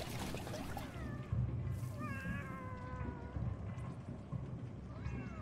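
Several cats meow in a video game, drawn-out mews rising and falling at intervals over a steady game background with some low rumble.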